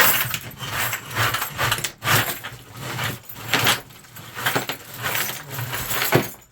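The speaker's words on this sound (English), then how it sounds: "So, keys. Like I said, I have a lot. This is only a small bunch." A small bunch of brass scrap keys jangles and clinks in repeated bright metallic bursts, close and fairly loud, as the bunch is shaken and handled.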